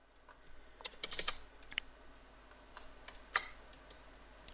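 Computer keyboard typing text into Photoshop, quiet irregular clicks in short bursts and scattered single keystrokes over a low steady background hum.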